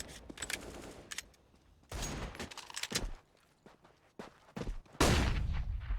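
Rapid bursts of gunfire from a Counter-Strike esports match, including Desert Eagle pistol shots. Sharp broadband cracks come in several clusters, with a loud sustained volley near the end.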